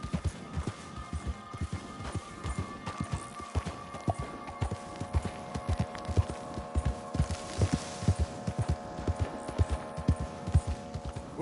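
A horse's hooves trot in Red Dead Redemption 2, a steady rhythmic clip-clop of close, distinct hoofbeats over a low ambient hum.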